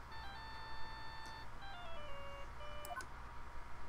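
A mobile phone rings in Phoenix Wright: Justice For All as a faint electronic tune of stepped beeping tones that plays twice over a low hum.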